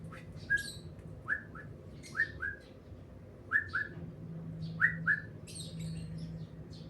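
A pet bird whistles in short bright bursts, often in quick pairs, repeating several times nearby over a low indoor hum as it sees its food.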